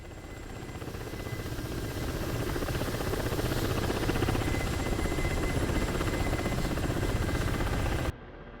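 Small radio-controlled helicopter hovering, a constant close buzzing whine of rotor and motor that holds steady for about eight seconds, then drops suddenly to a softer hum.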